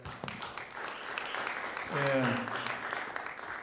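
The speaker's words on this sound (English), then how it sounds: "Give him a round of applause, everybody." A small recital audience at Cedar Valley College gives Buddy Muhammad a round of applause, a soft, steady patter of clapping beneath a brief spoken word and a short tonal sound midway.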